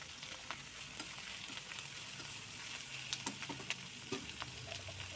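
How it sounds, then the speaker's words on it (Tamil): Chopped onions sizzle and crackle in a hot pan for a spicy country-egg omelette, with scraping stirs and soft clinks of a spoon recurring throughout, close and steady with no talking. "எல்லா வெங்காயத்தையும் ஆட் பண்ணி நல்லா கலரி விட்டுக்கலாம்"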